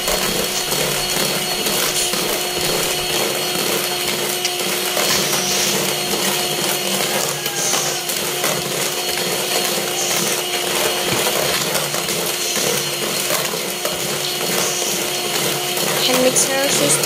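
An electric mixer grinder pulverises sugar for a sponge cake, giving a loud, steady whirring and grinding roar that runs unbroken for the whole stretch.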